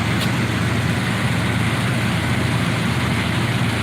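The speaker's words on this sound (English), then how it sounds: "They actually are loading the truck." A truck engine idles steadily at close range while the truck is being loaded, a constant low rumble with no talk over it.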